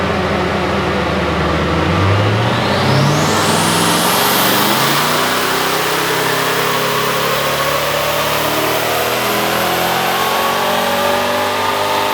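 Twin-turbo V8 Land Cruiser engine revs hard on a dyno, a loud continuous roar climbing steadily in pitch through a long pull and holding high, with no voices over it.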